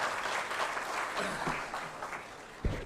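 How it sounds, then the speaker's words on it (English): Audience at a Day of the Seafarer 2025 ceremony applauding the chief guest, a sustained round of clapping from a crowd, fairly distant and moderate, with a brief thump near the end. "Big round of applause,"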